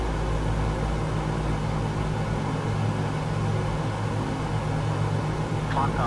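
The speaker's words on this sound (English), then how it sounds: "And as you can hear, he's now bringing the engines back to climb power." PMDG DC-6 piston engines in Microsoft Flight Simulator hold a steady, loud, droning rumble at climb power, continuous throughout with no talk over it.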